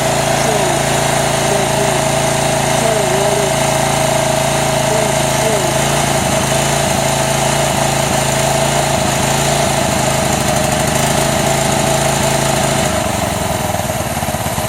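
A Honda GCV190 engine on a Ryobi pressure washer idles steadily and loudly nearby, a continuous small-engine drone that shifts slightly toward the end as the idle is adjusted.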